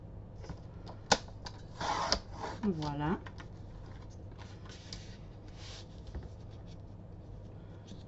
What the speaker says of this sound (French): je découpe donc mon papier noir à 14 sur 14.